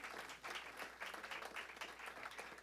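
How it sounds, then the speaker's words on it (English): Steady applause for award recipients at a ceremony in a Port of Spain ballroom, with many hands clapping together at an even, moderate level from a slight distance. "Please give them a wonderful round of applause."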